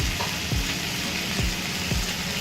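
Salt, turmeric and red chili powder fry in a pan for a thin fish curry, making a loud, dense, continuous sizzle broken by several rhythmic scraping strokes of a spatula.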